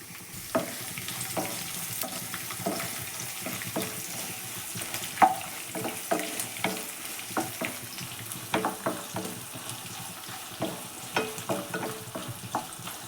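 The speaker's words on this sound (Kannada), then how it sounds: "ಇದ್ರ ಜೊತೆಗೆ ನಾನು ಈರುಳ್ಳಿ ಸೇರಿಸ್ಕೊತಿದ್ದೀನಿ" Onions and peanuts frying in hot oil in a pan, a steady sizzle broken by irregular scraping clicks of a stirring spoon, close and continuous with no voices.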